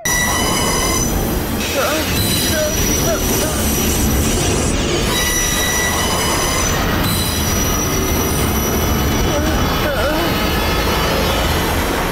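A moving train rumbles loudly with high, sustained metallic wheel squeals piercing through, continuous throughout with rattling carriage noise.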